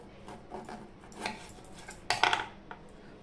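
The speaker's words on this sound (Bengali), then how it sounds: "উচ্ছেগুলো আমি লম্বালম্বি করে কাটবো।" A knife slicing bitter gourd lengthwise on a kitchen surface, a few soft scraping cuts followed by a louder clattering knock near the end, close by with no talk.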